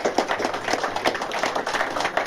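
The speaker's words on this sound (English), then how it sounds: "you can give them the clap and all" Hands clap in a small crowd at a gardening club's annual open show evening, a busy, fairly close spatter of claps lasting a couple of seconds with no talk over it.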